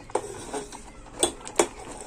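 Grated carrot halwa cooked with milk is stirred in a pan, with a spoon giving occasional distinct metallic clinks and scrapes against the pan at close range over a low background.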